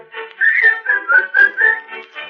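A person whistles a cheerful tune up close, a clear run of about eight pitched notes in a bouncing rhythm, alone with no talking.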